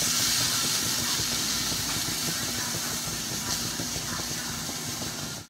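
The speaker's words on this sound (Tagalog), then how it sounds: "So yan, kumukulo na siya." A steady, rushing hiss with bubbling texture fills the space, like water at a rolling boil, continuous and close.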